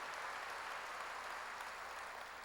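A church congregation applauds in a continuous, dense wash of clapping that holds steady throughout.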